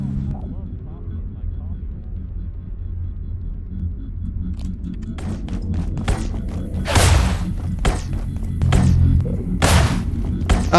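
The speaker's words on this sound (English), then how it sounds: "Laser grenade!" Laser grenade going off in the video game Abiotic Factor: two sharp bursts of crackling blast noise over a low, rumbling game backdrop, with a voice talking in between.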